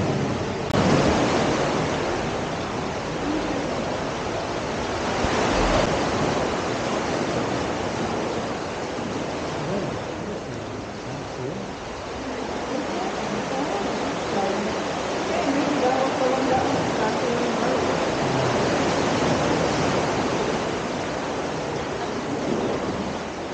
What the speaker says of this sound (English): we can hear the waves